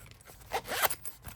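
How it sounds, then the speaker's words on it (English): A zipper pouch with a bit of plastic packaging is unzipped up close: a short, raspy zip run with a louder burst midway, quiet and alone. "Zipper pouch, a little bit of plastic."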